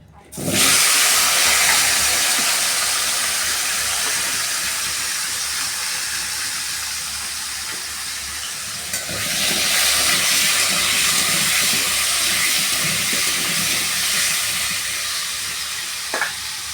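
Taro and potato pieces go into hot oil where crabs were just fried, setting off a loud, steady sizzling hiss that surges again partway through.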